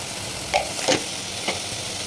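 Tomato masala with chili powder sizzles loudly in a hot pan as it is stirred for tomato rice, with steady frying hiss broken by a few sharp scraping strokes of the spoon, close up and with no talking.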